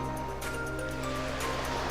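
Sea waves wash onto the beach at Prachuap Bay, Thailand, a continuous loud broadband rush with no talk over it.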